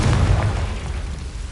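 A loud, booming blast from the Confringo explosive spell in the Hogwarts Legacy video game, with a heavy low rumble that stays sustained and dense for over a second and carries no speech.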